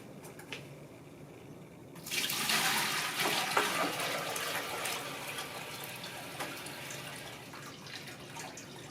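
Clean water is poured into a biosand filter to flush its outlet tube, a steady splashing gush that starts suddenly and keeps running near and moderately loud, slowly easing off.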